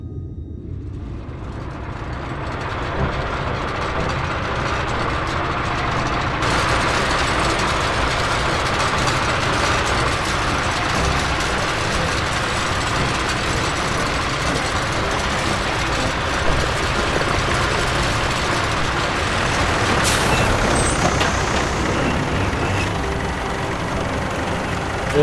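A rolling tank vehicle in Final Fantasy XIV Shadowbringers gives a steady, heavy engine rumble with rattling mechanical texture. It continues for about twenty-five seconds at constant loudness, with one brief sharp clank near the end and no speech.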